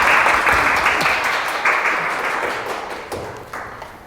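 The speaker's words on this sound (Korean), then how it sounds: "큰 박수 부탁드리겠습니다." Sustained audience applause at a Busan youth policy academy lecture, loud and dense clapping filling the room before gradually thinning out and fading.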